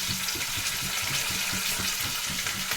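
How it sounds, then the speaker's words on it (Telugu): Green chilli, curry leaves and chopped onion sizzle steadily in a pan, a close, continuous frying hiss with soft stirring knocks underneath and no talking. "ఇవన్నీ మనము వేయించుకోవాలండి."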